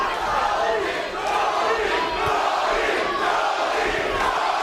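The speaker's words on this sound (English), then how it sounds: "Crowd yelling Tony, and he obliges" A boxing arena crowd yells and chants a fighter's name during a bout, a loud, sustained roar of many voices with surging peaks, close and dense.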